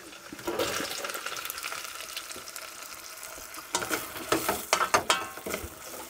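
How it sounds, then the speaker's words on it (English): Onions and garlic sizzling in a hot pan, quiet at first, then louder crackles and stirring scrapes toward the end; no one speaks. "we're going to sweat the onions and the garlic."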